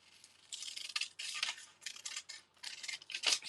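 Several short snips of scissors cutting through a paper pattern along a neckline, crisp and close, in quiet irregular bursts.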